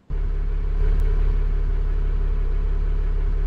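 East Lancs Trident double-decker bus with a diesel engine cranking and catching, then settling at once into a steady, deep, loud idle rumble heard close up, with no talk.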